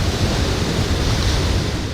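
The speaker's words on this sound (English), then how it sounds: "The sea that once stayed far from his shrine now moves closer with every strong wave" Sea waves breaking against a shoreline near a shrine make a loud, continuous roar of surf with rushing wash and wind noise, no voices.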